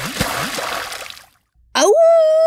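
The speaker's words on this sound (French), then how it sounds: "Éclaboussure." A cartoon wolf drops down a chimney into a pot of boiling soup with one wet splash, loud and close, followed by a brief silence and then a rising whistling tone.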